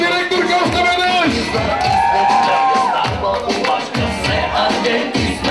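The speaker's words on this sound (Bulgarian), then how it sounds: "Аплодисменти за най-годната директорка още веднъж!" Crowd at a 2012 school graduation cheering and clapping for the school director, a lively hubbub of whoops, shouts and rhythmic clapping with voices mixed in throughout.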